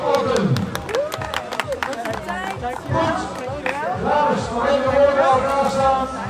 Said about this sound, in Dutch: Nog een applaus voor Mira